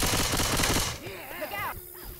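A rapid burst of loud magnum pistol gunshots in the video game Left 4 Dead 2 fires in quick succession, then cuts off into quieter voices and background sounds.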